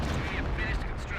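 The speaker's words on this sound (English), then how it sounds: "Pioneers get killed by the howitzer" Howitzer artillery fire in the real-time strategy game Company of Heroes, a dense, continuous rumble of booming shellfire in a tournament match, steady throughout with commentary voices talking over it.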